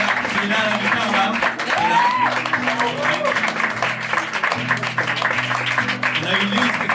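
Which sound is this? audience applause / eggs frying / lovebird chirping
audience applause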